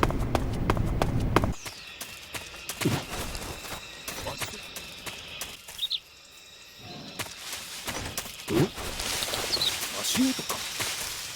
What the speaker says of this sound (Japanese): 足音か。